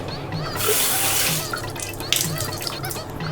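Water runs steadily from a bathroom tap in Malaysia, a loud continuous splashing rush that swells after the start and keeps flowing, with brief drips and clinks over it and no talking.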